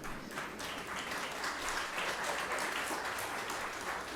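An audience applauding at a Bhagavat Katha religious discourse, a dense, steady wash of many hands clapping at moderate distance, with no speech over it.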